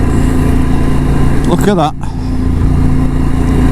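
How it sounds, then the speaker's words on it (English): A car overtakes a camper van on a damp road, engine and road noise steady and loud inside the cabin, with a brief swell as it passes and a voice speaking over it. "we're just going to overtake this camper van"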